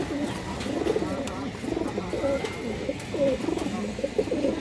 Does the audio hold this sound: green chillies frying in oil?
no